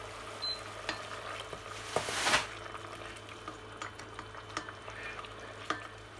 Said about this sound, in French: Voilà donc nos morilles qui mijotent.